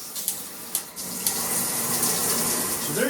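Water spraying from a WaterSong 6-function handheld showerhead, a loud steady rush with a few clicks and knocks near the start, running continuously and close.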